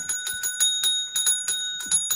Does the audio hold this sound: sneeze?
no